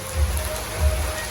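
Steady rain patters on a surface in Jaffna, a dense close hiss with low rumbling swells, with no voices.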